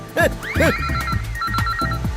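A telephone rings with a warbling electronic bell tone, repeating in short bursts at close range over a steady background music bed, with no voices.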